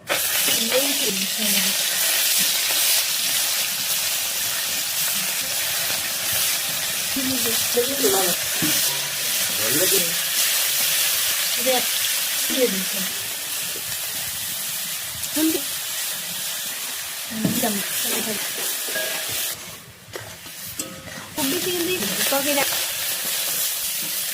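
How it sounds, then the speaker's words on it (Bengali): Steady, loud sizzling of fish rubbed with salt and turmeric frying in oil, with occasional utensil scrapes and clinks over a continuous hiss. "এখন এগুলোকে ভাজা হবে।"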